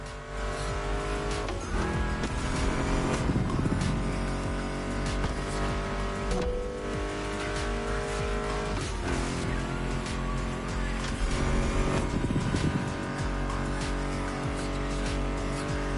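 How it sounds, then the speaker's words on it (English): Car engines racing in The Crew Motorfest video game, continuous and loud, mixed with a steady music soundtrack, with revving swells and occasional tire squeal throughout. "Meshes well with the sound of the engines"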